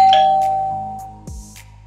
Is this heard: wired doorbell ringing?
yes